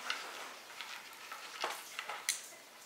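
Heat knife cutting and sealing thick macrame string, giving faint scattered crackles and short sizzling ticks, quiet and close with no talking.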